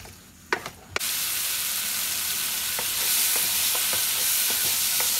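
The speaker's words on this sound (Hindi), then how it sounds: "गिश्तावों को हम तकरीबन 5 मिनट तक भूनेंगे।" Gishtaba meatballs fry with spinach and green chillies in a pan, a few clattering knocks giving way to a loud, continuous sizzle with faint periodic stirring taps.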